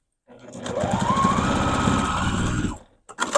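A sewing machine runs a 1/4 inch seam on a stuffed goose toy, a steady close whirring chatter of the needle for a little over two seconds, then it stops and a few light clicks follow.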